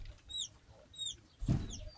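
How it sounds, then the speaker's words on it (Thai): A hen clucks a few soft, short calls outdoors, faint against light background noise and birdsong, with one fuller low cluck near the end. "นี่แม่ไก่ตัวนี้แหละ"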